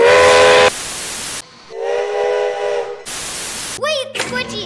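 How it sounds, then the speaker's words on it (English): Steam locomotive whistle of CN 6060 blowing several loud sustained tonal blasts separated by short gaps, with a breathy steam hiss; a voice speaks briefly. "steam engines have whistles that sound like this"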